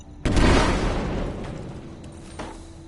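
A pulse mine detonates in Fallout 76 with one heavy, close boom that rolls and slowly fades, followed by a faint later thump as the rumble dies away.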